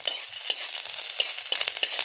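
Garlic and onion fry in a pan for a sardine dish, giving a brisk crackling sizzle with quick stirring scrapes, close and steady with no talk.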